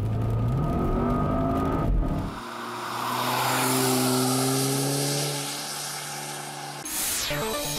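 Car out on a test drive, the engine note climbing and dropping through gear changes with a whooshing rush of air at the end, fairly close and unaccompanied by talk.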